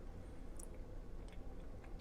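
Someone chews a vegan chocolate walnut cookie up close, a quiet, continuous crunching and mashing with small crisp bites, alone without talk.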